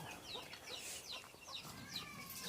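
Chickens cluck and chirp in a steady, overlapping chatter close by, a busy coop sound with no voices.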